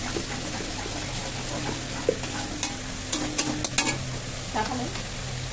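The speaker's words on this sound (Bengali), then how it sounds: "এবারে মশলাটাকে কষাবো।" A spice paste with chili powder is stir-fried in a pan, producing a continuous close sizzle with repeated scraping and tapping strokes of a spatula in an uneven rhythm.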